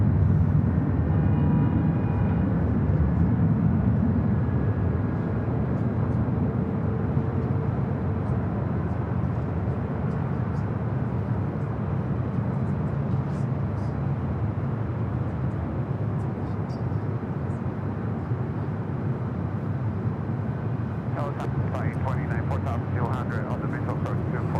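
A Boeing 767-400ER airliner bound for Atlanta roars with a broad, sustained jet engine rumble at LAX, steady and fairly loud throughout, with a voice talking over it.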